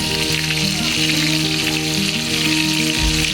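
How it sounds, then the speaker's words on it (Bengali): Fish frying in hot oil for a home party meal, a dense continuous sizzle with a tonal melody running underneath. "অন্য সাইডে এখানে মাছ ভাজা করা হচ্ছিল"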